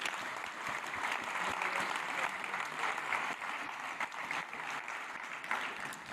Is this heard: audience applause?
yes